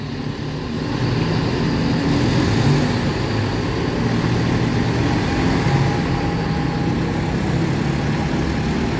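Damri bus with a Piala Mas body, its engine running with a loud, steady low rumble that rises slightly as it pulls in and stays close throughout.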